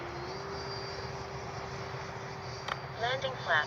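Steady whine of a Freewing F/A-18C 90mm electric ducted-fan RC jet on its landing approach, a constant mid-level hum with a steady pitch, joined near the end by a person talking nearby.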